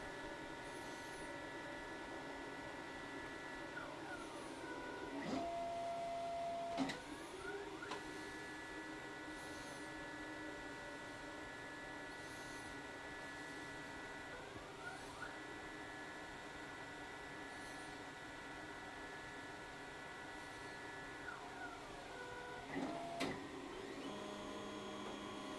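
A Da Vinci Pro 3D printer runs automatic bed leveling, moving between corners with quiet stepper-motor whines and pitch sweeps over a faint steady hum, punctuated by brief louder motion bursts.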